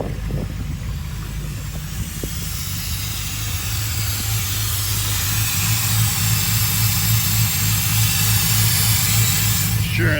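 Car engine idling while low on coolant from a leak. A steady, continuous rumbling idle runs throughout at an even level with no talking.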